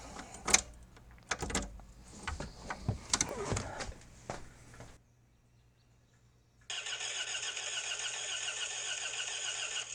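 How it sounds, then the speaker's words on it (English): On a Toyota MR2 being rebuilt, several clunks and rattles of handling come first, then a short silence, and then the fuel pump runs with an even, continuous mechanical whir that holds steady to the end. "Pump's running."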